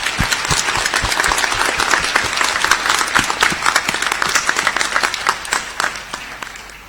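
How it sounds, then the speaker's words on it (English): A graduation audience at a Monash Malaysia ceremony applauds, with dense, loud clapping from many hands that holds steady for several seconds, then thins to scattered claps and tapers off toward the end. "I now ask that members of the audience to applaud your accomplishments."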